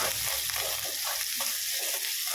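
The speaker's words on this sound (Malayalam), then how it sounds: "അതിലേക്ക് നമ്മൾ ഉള്ളി ചേർത്ത് കൊടുക്കുകയാണ്." Onions sizzle in hot oil in a pan for a curd curry, a dense continuous hiss and crackle with soft stirring scrapes, loud and close.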